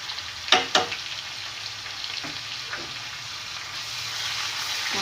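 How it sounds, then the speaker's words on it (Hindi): Tomatoes with chilli, turmeric and salt frying in a pan, a close steady sizzle with a couple of sharp stirring knocks near the start. "और अब मैं इनको बहुत अच्छी तरह भून लूँगी।"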